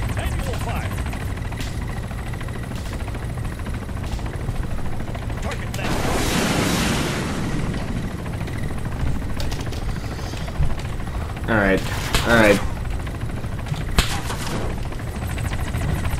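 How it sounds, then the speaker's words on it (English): Incoming gunfire in the ARMA 3 military video game comes as a few short, crackling bursts over a constant helicopter rotor drone. "We're taking fire from that compound to our right."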